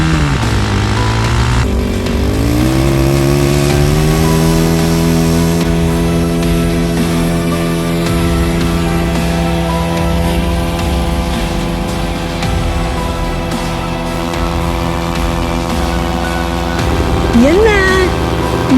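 A Pulsar motorcycle doing a burnout, its engine held at a steady high rev with the rear wheel spinning, loud and close for the whole stretch. A rising whine comes near the end.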